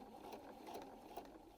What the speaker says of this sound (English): you want to do the longest stitch that you have on your sewing machine